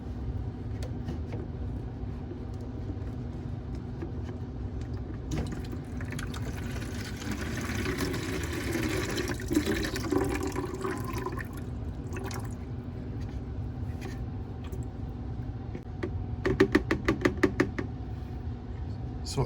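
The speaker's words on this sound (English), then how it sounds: "now I'm gonna remove the valve and drain the tube" Dirty water drains from the tube of an AC condensate pump after its valve is removed, giving soft dripping and trickling over a steady background hum, with a short burst of quick drips near the end.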